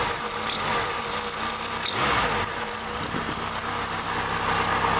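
A car engine idles roughly with a steady, continuous rumble that runs alone throughout, loud and close.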